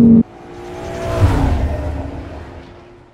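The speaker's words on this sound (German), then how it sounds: "Wir stehen gerade hier neben einem 1200 PS R8 Biturbo" A 1200 hp Audi R8 biturbo engine revs, with a loud burst at the start, then a roaring swell that rises and slowly fades away.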